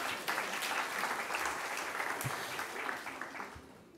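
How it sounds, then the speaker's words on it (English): An audience at the annual Frank Worrell Memorial Lecture breaks into sustained applause, a dense, even patter of many hands heard from a distance that slowly fades out. "You can clap for that too."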